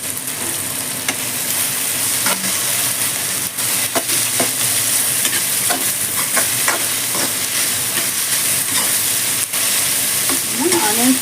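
Sliced onions with green chilli and curry leaves fry in oil with a loud, continuous sizzle. A spoon stirs them with scrapes and light taps against the pan, and no one speaks.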